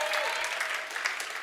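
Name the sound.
audience applause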